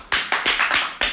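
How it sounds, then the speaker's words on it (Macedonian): A few sharp hand claps, about four distinct bursts in quick succession, close and fairly loud in a small room with no talking. "Аплауз за Стефанато."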